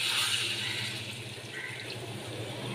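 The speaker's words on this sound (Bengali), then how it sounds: "এবার আমি 1 বাটি মতো জল দিয়ে দিচ্ছি।" Water poured from a bowl into an egg curry with cauliflower and potato, a soft continuous splashing pour, quiet and close.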